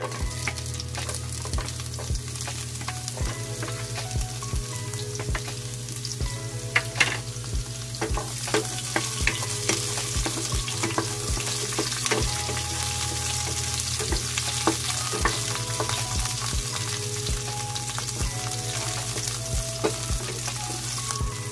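Sliced onion sizzles in hot oil in a pan for a steady stretch while cooking Filipino ginisang bok choy, a continuous crackling hiss with occasional sharper pops and clinks, close and fairly loud, no talking.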